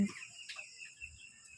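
Soft clucking and chatter of 45-day-old chickens in a coop on a farm, with a brief louder squawk partway through and faint low background rumble.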